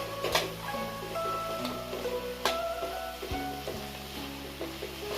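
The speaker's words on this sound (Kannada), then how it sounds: "ಚೆನ್ನಾಗಿ ಫ್ರೈ ಮಾಡ್ಕೊಳ್ಳಿ." Grated beetroot for palya sizzles steadily in a pan while a spoon stirs and scrapes it in irregular bursts, close up, with no talk.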